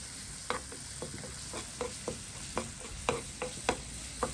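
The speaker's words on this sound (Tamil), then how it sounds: "இதை இப்போ நாங்கள் வதக்குவோம்." Soaked dried red chillies are sautéed in a pan, giving a steady soft sizzle with a quick run of scraping stir strokes against the metal, close and alone with no voices.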